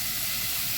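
Onions sizzling in a little oil in a hot pan, a steady close bright hiss without a break and with no talk.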